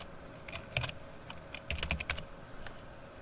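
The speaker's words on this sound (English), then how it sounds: "I'm just double clicking on those" Quick mouse double clicks while editing and renaming layers in image software, heard as a few sharp, close clicks in small clusters against a quiet room.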